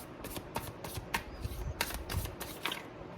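Tarot cards are drawn and flicked from a deck in a quick string of crisp, papery snaps and slides. The sound is close and fairly quiet, with no talking.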